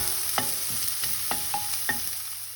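Sliced garlic frying in a pan of oil for a mung bean sprout dish: a continuous close sizzle with a few soft scraping stirs of a spoon, no voices.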